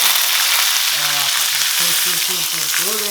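Mustard seeds, cumin, asafoetida and curry leaves hit hot oil with a loud, steady crackling sizzle, while a short tonal melody plays faintly underneath.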